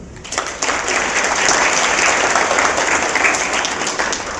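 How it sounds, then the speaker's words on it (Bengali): A church congregation claps together at a New Year gathering, steady dense applause rising quickly and sustained throughout, fairly close and loud with no talking over it. "আমরা প্রত্যেকে নিজেদের জন্য একবার হাততালি দিই।"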